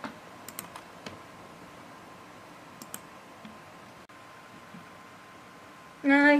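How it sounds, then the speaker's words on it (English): Typing on a computer keyboard: sparse, quiet key clicks scattered over a faint background, followed by a brief louder burst near the end. "Advanced typing."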